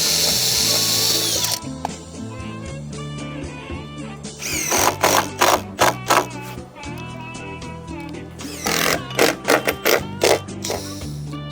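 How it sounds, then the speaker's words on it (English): A power driver sets stainless steel screws into composite decking boards, with whirring drill runs and bursts of rapid clicking from close range. "So now we'll go along and screw it down with our colour match stainless steel screws"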